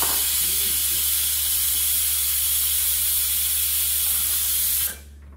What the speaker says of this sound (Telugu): నాకు ఆ కుక్కర్ సౌండ్ భలే ఇష్టం.